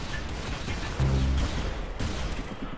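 Gunfire in the Roblox game Arsenal, scattered shots and bursts with a louder low burst near the middle, heard against a busy game background.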